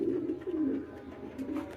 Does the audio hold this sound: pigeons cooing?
yes